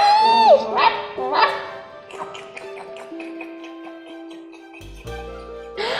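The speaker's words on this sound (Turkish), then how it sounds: "Ay köpekler var." A high whining dog yelp opens, followed by a couple of short barks and scattered clatter and voices in the background.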